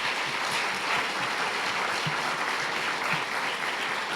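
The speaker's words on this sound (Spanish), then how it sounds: "quiero que le demos un fuerte aplauso a la Iglesia de Dios BJ" Sustained applause from a crowd at a church book launch, a dense even patter of many hands clapping without a break, moderately loud and slightly distant.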